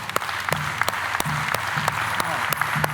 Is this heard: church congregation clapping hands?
yes